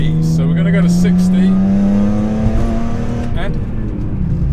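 A BMW M3 with the S54 engine and an upgraded exhaust accelerates hard toward 60 for a brake test, its loud, close engine note rising steadily in pitch through a gear, with a voice audible underneath.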